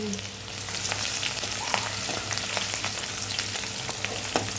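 Garlic and dried chillies frying in a pan give off a steady, close, crackling sizzle that continues throughout with no voices.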